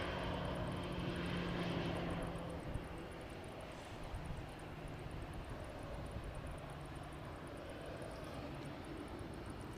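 A CFM56-powered Airbus jet on runway 23 left at an Airbus factory airfield, heard as a steady, broad engine roar from a distance that stays loud throughout with no talk over it.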